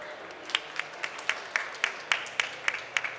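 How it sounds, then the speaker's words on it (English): Panel audience applauding a guest at a nursing discussion event, light background clapping with a handful of close, crisp individual claps in a loose rhythm. "Another round of applause,"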